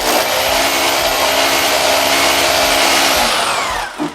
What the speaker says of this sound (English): So you want to clean all the rubbish out of the hole just by running the drill up and down.